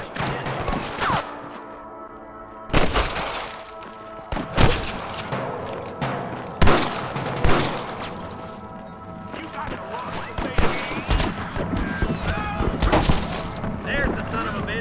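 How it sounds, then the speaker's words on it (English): Bursts of rapid gunfire crackle repeatedly amid excited shouting voices in the video game Red Dead Redemption, with loud sharp volleys punctuating a busy, noisy scene. "Gunshots! Quick!"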